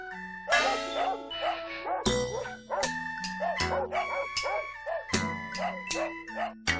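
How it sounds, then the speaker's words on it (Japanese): Several dogs bark and yip excitedly in quick succession, close and overlapping, with some higher whining yelps mixed in. "犬が騒いでいる"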